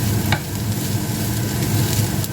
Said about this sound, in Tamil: இதையும் நல்லா மிக்ஸ் பண்ணி விடுவோம்.